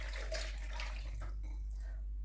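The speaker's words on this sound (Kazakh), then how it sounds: "бізге алдымен осы ыдысқа жылы суымызды құйып аламыз" Warm water poured into a bowl for dough, a soft close splashing stream that thins and trickles off near the end over a low steady hum, no talk.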